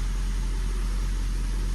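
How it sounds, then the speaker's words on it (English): The engine of a Hyundai Ioniq Hybrid with a Check Hybrid System fault runs with a steady low hum, constant and close, without speech. "You know, the engine running."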